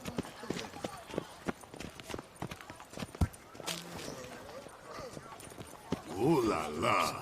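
Roach the horse gallops in The Witcher 3, a rapid clip-clop of hooves running beneath frequent spoken dialogue, with a louder burst of game sound near the end.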